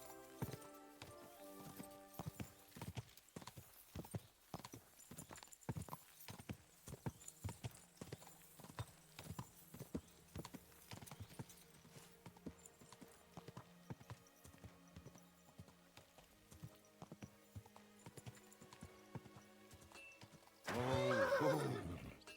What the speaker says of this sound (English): Sweet horse.